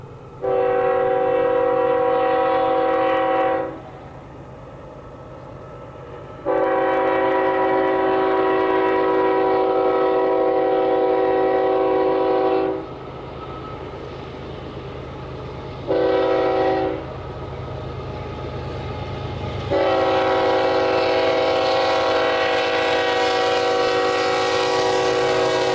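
A Union Pacific train horn blasts in long, loud chords several times over the steady rumble and rattle of a passing freight train in winter.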